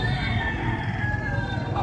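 A yellow-legged street comb rooster crows once in a drawn-out call, heard close and loud against a busy background.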